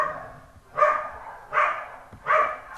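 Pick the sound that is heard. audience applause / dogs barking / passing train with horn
dogs barking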